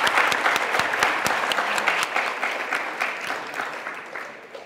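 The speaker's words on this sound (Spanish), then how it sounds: "para quien también solicito el aplauso que le corresponde" An audience at a panel discussion on psychosocial work with victims applauds a panelist being introduced; strong, close clapping that gradually thins and fades over several seconds.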